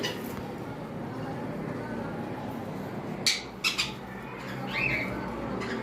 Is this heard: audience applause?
no